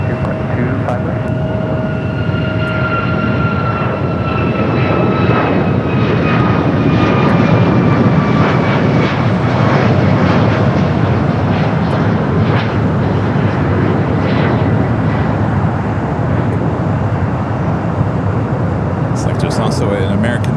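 An airliner takes off from runway 25 right at Los Angeles International Airport (LAX), a loud steady jet engine roar with whining tones that slowly fall. A radio voice can be heard faintly under it.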